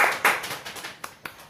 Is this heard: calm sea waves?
no